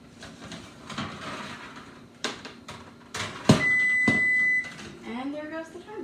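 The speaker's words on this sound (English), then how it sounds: "And there goes the timer." Kitchen timer sounding a steady electronic beep lasting about a second while shortbread bakes, amid clattering of trays and an oven door, with a person talking in the kitchen.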